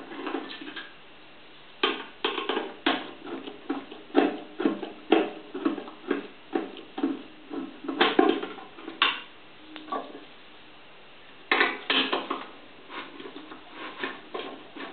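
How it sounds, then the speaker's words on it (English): Small metallic clicks, taps and scrapes from taking the thermal fuse out of a microwave oven near the magnetron, sharp irregular ticks in scattered bursts with quiet gaps, close and fairly soft. "So let's take out the thermal fuse."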